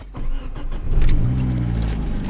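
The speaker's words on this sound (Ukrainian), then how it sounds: "Заводиться з півтичка, але диміть." A BMW E90 that is in poor condition and known to smoke cranks and starts close by. The engine catches after a brief whir and then settles into a loud, steady idle, with no voices.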